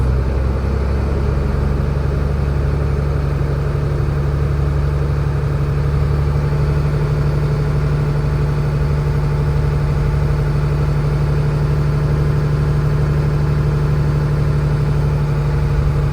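A truck's engine runs steadily with the fuel pedal held down to build air pressure, giving a loud, continuous low drone with no breaks and no talk throughout.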